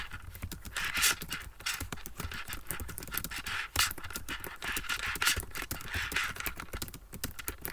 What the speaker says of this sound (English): Sorry about the noise, those are my bracelet.